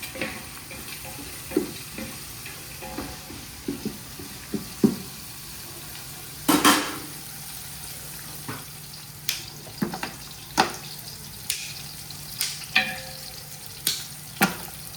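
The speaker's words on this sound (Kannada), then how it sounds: "ಈರುಳ್ಳಿ ಮತ್ತು ಆಗ ರೆಡಿ ಮಾಡಿದ ಮಸಾಲ ಎಲ್ಲ ಹಾಕಿ ಚೆನ್ನಾಗಿ ಫ್ರೈ ಮಾಡಬೇಕು." Chopped onions and prepared masala of cumin and coriander fry in a pan, a soft continuous sizzle broken by repeated scraping stirs and clinks of the spoon at close range, with no talk.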